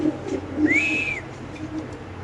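A pair of Indian Lotan pigeons kept for sale; a single clear whistling call rises briefly over quiet background murmur and low coo-like sounds nearby.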